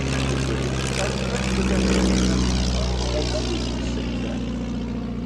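A rare racing propeller plane's engine drones loud and close on the runway at Old Warden, a steady, throbbing hum that swells slightly and then holds.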